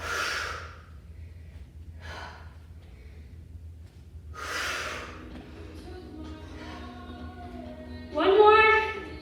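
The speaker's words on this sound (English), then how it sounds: "Breathe it out." Heavy breaths are pushed out during a yoga exercise, several loud airy exhales spaced a couple of seconds apart, close to the microphone, followed by a brief voiced sound at the end.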